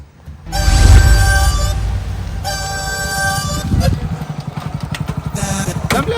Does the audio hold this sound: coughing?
no